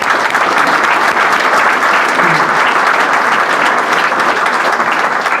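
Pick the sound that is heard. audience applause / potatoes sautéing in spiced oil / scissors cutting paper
audience applause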